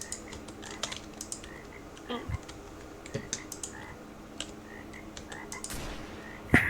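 A frog in a Roblox game croaks in scattered soft calls among keyboard typing and clicks, with a sharp croak right at the end.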